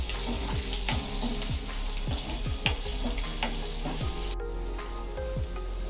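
Green chili and raw mango sauté in a pan for a dal tempering, giving a steady close sizzle broken by repeated scraping strokes of a stirring spoon, with no talk.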